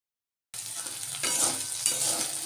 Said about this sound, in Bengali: এখন ভেন্ডিটা ভেজে নিচ্ছি